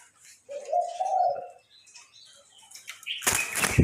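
A deep-voiced spotted dove kept as a decoy gives a low, rolling coo near the start. Then comes quiet, and the clip ends in a sudden burst of broad rustling noise.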